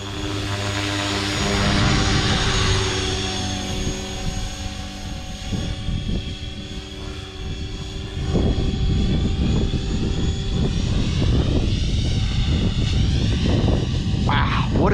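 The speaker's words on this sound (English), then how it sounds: "good looking, stable helicopter" A 500XT RC helicopter flies steadily in the wind with a loud, continuous rotor and motor whine that holds close and even throughout, surging slightly in intensity partway through.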